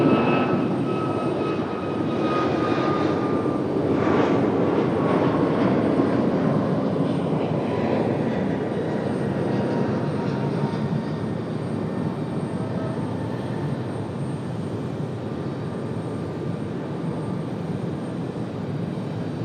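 A fixed-wing airliner arrives at Raleigh-Durham International Airport, its engine roar loud and steady with a broad rushing wash that slowly eases off, heard alone with no talk.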